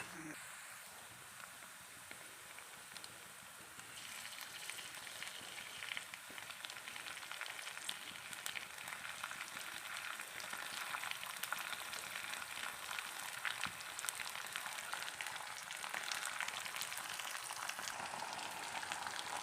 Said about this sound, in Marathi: त्यानंतर आपल्याला हे लालसर होईपर्यंत आपल्याला हे कांदा भाजून घ्यायचा आहे